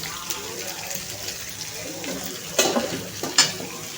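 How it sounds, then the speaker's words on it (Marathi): Sliced onion, capsicum and cabbage stir-fried over high flame for street-style chicken noodles, a steady sizzle with scraping stirs and a couple of louder clattering tosses near the end. "हे फास्ट हाय फ्लेमवर आपण थोडंसं 1 मिनिटभर फ्राय करणार आहोत."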